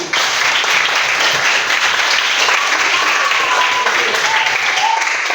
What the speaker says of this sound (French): Applaudissez encore pour vous.